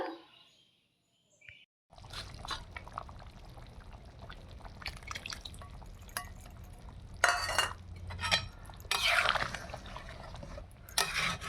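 Water is poured into a pot of browned, simmering meat in a village kitchen, splashing and sizzling close by with clinks of utensils and stirring; no talk.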